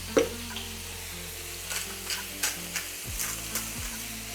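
A burger patty sizzles and fries steadily in a pan after being flipped, with a constant crackle and a few soft clinks and scrapes from the utensil.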